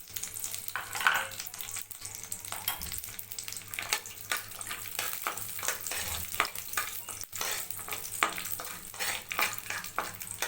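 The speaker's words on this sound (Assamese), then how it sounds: "ঘিউখিনি গলি আহিলে আমি ইয়াতে কাজু আৰু কিচমিচখিনি অলপ ভাজি ল'ম।" Cashews and raisins fry in melted ghee, giving a steady soft crackle and sizzle with occasional stirring scrapes, moderately quiet and continuous, with no talking.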